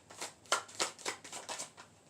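Tarot cards are shuffled and drawn close by: a run of soft riffling, flicking and slapping card sounds in quick bursts, fairly quiet, with no talking.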